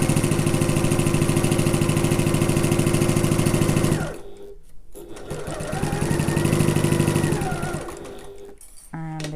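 A sewing machine stitches a backpack with a fast, loud, even whir for about four seconds, then stops while the presser foot is lifted. A quieter start-and-stop of the motor follows during the pivot, then a brief burst at the end.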